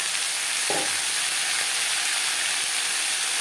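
Yardlong beans and bottle gourd peel frying in a pan with chillies, a steady loud sizzle with a brief scrape of stirring early on, no talk.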